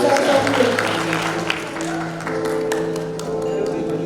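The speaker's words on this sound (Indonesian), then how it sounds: "Tepuk tangan lagi untuk Sofia Bulu Siagian." Audience at a Q&A talk show session clapping in a sustained round of applause, with the host's amplified voice speaking over the clapping near the end.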